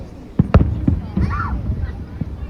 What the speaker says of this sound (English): St. Augustine puts on a good fireworks show.